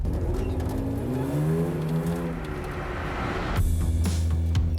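A car driving over desert sand and sinking in a little, its engine droning and rising in pitch, then a louder rumbling surge near the end, with no talk.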